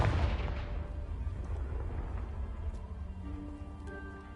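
A Confringo blast spell in Hogwarts Legacy bursts with a loud, broad boom at the start, then rumbles and decays over several seconds while faint tonal chimes and debris-like tinkles rise near the end.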